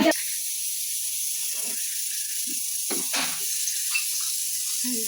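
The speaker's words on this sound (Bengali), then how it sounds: "প্রেসারে সিটি উঠে দিচ্ছে।" A pressure cooker whistle releases steam in a continuous loud hiss throughout, with a few short kitchen clatters and knocks underneath.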